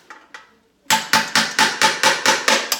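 Two light taps, a brief pause, then a steady run of eight sharp, loud hammer blows driving a long nail through a hanging planter to make drainage holes, at an even rhythm.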